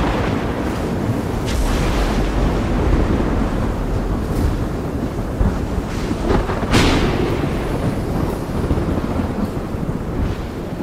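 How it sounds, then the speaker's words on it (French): Thunderstorm over an ocean, with a dense, loud roar of wind and rain broken by several sharp crackling bursts and rumbles, no voices. "l'atmosphère est balayée par les orages, les tempêtes, les cyclones"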